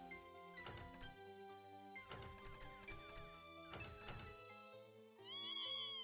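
A cat in a Windows 98-era game meows while being petted. The tonal, synthetic-sounding mews are mixed with several loud crashing bursts, and a sharper cry comes near the end, with no voices.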